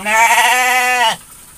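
One close, loud bleat from a sheep in a farm pen, a steady quavering call that cuts off sharply, leaving quiet afterward.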